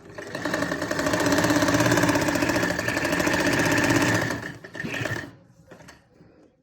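Sewing machine stitching a kameez neckline: a close, loud, rapid mechanical chatter runs steadily for about four seconds, then slows, stutters briefly and stops into near quiet.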